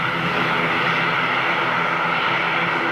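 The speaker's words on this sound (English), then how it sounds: "The A220, one of my favourite aircraft variants at the moment, is going to be taxiing out over here" An Airbus A220 airliner taxiing out at Manchester, its engines giving a steady, loud whining roar close by that stays constant throughout, with no talk.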